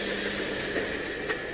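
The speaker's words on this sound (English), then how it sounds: "The shunter is calling the train towards him." An electric multiple unit train creeps forward toward another unit for coupling, giving a steady broadband hiss and rumble with faint metallic squeals, no voices.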